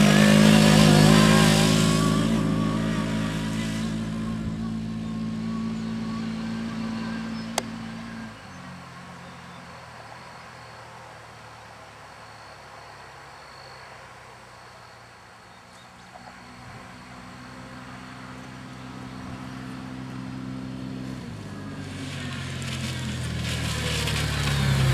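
A Can-Am Commander XT 1000 side-by-side running at speed, near 60 mph, with a loud steady engine drone that eases off mid-run and then builds again, accompanied by constant wind rush and no talk.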